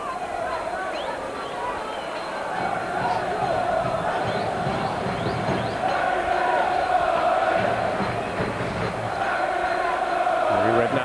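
A Portsmouth football crowd at Fratton Park cheers and roars in a steady wash of distant voices, swelling gradually while a commentator talks over it.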